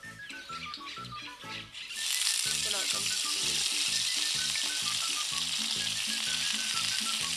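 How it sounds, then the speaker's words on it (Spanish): Olive oil sizzles in a frying pan on a stove, starting moderate and jumping to a loud, bright, steady hiss about two seconds in, with light squeaky stirring and music softly underneath. "vamos a poner la sartén en el fuego con un poco de aceite de oliva"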